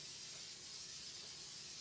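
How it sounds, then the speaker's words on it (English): Seasonal spray misted over a handmade sunflower wreath made with silk flowers, a steady continuous aerosol hiss held for about two seconds, close and fairly quiet, with no talking. "like a little spray to my wreath with a seasonal spray"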